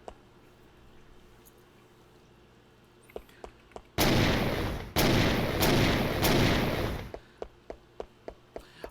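A pistol's alt-fire shots ring out in a Ratchet & Clank mod game, three loud sustained blasts in a row, then a string of short sharp clicks or pops close by.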